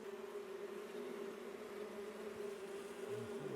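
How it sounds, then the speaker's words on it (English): A tiny queenless honeybee colony buzzing inside a bird box, a continuous steady hum at close range, fairly quiet and alone without voices. "there's a big load of bees behind here"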